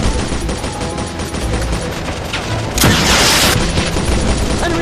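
Heavy automatic gunfire rattles continuously in a desert war video game, with a sudden loud rocket-propelled grenade blast that bursts out partway through and sustains a harsh roar over the shooting.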